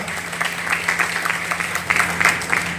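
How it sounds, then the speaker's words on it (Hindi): A crowd at a network marketing seminar gives steady applause, a continuous wash of many clapping hands over a low electrical hum in a large hall, with no talk over it. "जोरदार ताली देता।"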